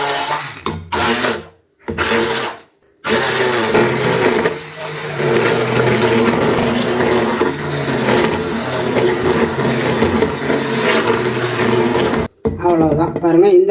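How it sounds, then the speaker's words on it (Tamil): An electric blender grinds aloe vera gel into a smooth pulp for homemade hair oil, giving a loud, sustained whirring roar after a few short bursts, stopping briefly near the end. "இந்த மாதிரி பிளண்டரில் வச்சுக்கோங்க இல்லாட்டி மிக்சியில் போட்டுக்கோங்க போட்டுட்டு இதை வந்து நல்லா அப்படியே அரைச்சி எடுத்துக்கோங்க"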